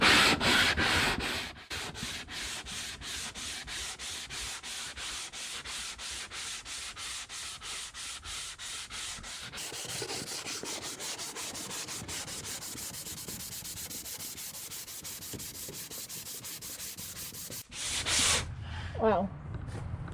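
An 80-grit sanding tool grinds across TotalBoat Total Fair filler, a rapid rhythmic rasping close to the listener that grows rougher midway and then stops abruptly near the end.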